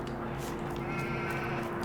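Sheep bleating in Farming Simulator 22, a sustained wavering bleat over a steady low farm-machinery hum, fairly close.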